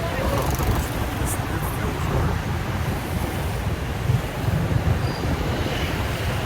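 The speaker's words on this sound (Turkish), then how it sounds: "rüzgar esmeye başladı." Steady wind roars against the microphone in Hanoi, Vietnam, a dense, rushing noise that stays loud and constant throughout.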